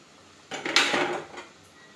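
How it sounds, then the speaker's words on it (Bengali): Balls of palm fritter (fulluri) batter slip one by one into hot oil, a short hissing sizzle swelling for under a second and then fading back to a quiet background. "একে একে ফুলুরিগুলোকে সব আমি ভেজে নেব।"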